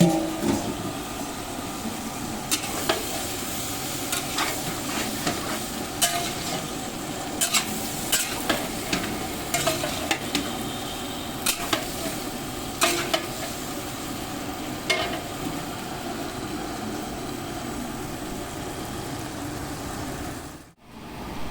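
Fried pointed gourd and shrimp are stirred in a frying pan, giving a steady sizzle broken by repeated scraping clicks of the spatula against the pan. No one talks.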